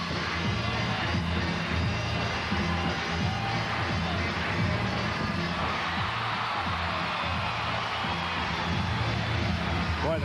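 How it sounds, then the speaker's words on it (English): Arena crowd cheering at a 2001 NCAA women's gymnastics meet between Georgia and Alabama, a steady dense roar filling the hall throughout, with an announcer talking over it. "the crowd is really pumping the Tide up here"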